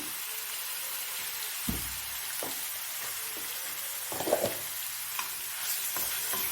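Ginger garlic paste fries in a pan, a steady sizzling hiss broken by a few spoon knocks and scrapes against the metal, close and moderately loud, with no voices.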